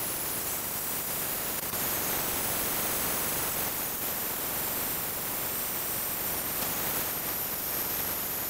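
A small torch roars steadily as it heats the threaded base of an exhaust sensor on the catalytic converter pipe of a 2009-2010 Ford F-150 5.4L, a constant broadband hiss held close and loud throughout with no talking.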